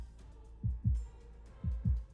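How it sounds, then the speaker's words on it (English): A video game heartbeat effect from Love and Dee thumps twice in a deep lub-dub pattern, repeating once, loud and low-pitched over a faint hum. "My heartbeat is all I can hear"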